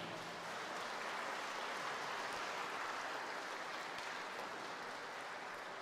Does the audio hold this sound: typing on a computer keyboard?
no